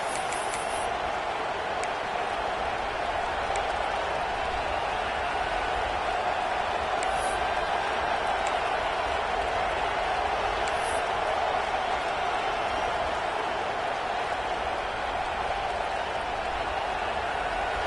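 A steady, distant roar of a stadium crowd at a football game, broad and unbroken throughout, with a play-by-play voice faintly audible over it.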